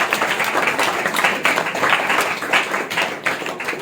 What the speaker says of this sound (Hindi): हम आइए ताली बजा के